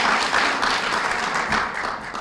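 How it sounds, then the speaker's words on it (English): Audience applause at a high school's top-20 student recognition ceremony, steady dense clapping from a crowd filling the room throughout, fading slightly at the end. "I think that deserves a round of"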